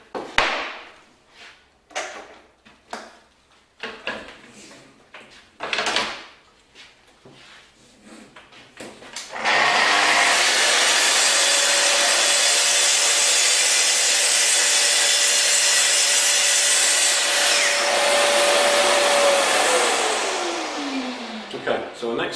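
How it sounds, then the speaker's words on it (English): A Festool TS55 track saw cuts through wood: scattered clicks and handling knocks, then the motor starts loudly and holds a steady high whine through the cut for about ten seconds before spinning down with a falling pitch. "I'll do the same cut and then we'll bevel the machine over."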